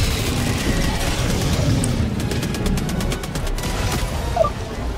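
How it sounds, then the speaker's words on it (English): Air support strafing run in the shooter game Helldivers 2 against a bug outpost, a dense roar of rapid gunfire and booms over steady battle noise, with a sharp crack near the end. "Requesting air support. They're doing a strafing run."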